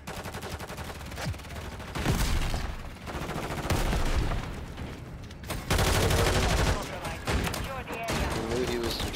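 Rapid automatic gunfire from the Call of Duty video game, Hardpoint mode, crackles in dense continuous bursts with loud volleys near the middle and end, a steady backdrop of game noise throughout.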